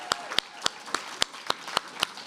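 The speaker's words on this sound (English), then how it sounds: "more applause for Michelle T" A handful of slow, evenly spaced claps after a faculty reading, about eight sharp individual hand claps close by with quiet gaps between them.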